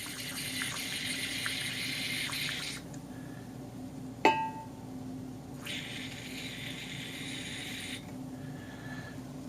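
Carbonated beer pours from a GrowlerWerks uKeg Go dispenser into a glass in two separate hissing spurts with a quiet gap between them and a single sharp click in the middle, close and fairly soft, with no talking.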